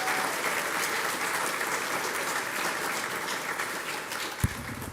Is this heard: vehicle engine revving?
no